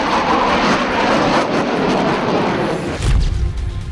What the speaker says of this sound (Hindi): रफाल यानी वो लड़ाकू विमान जिसकी गर्जना से ही दुश्मन के पसीने छूट जाते हैं।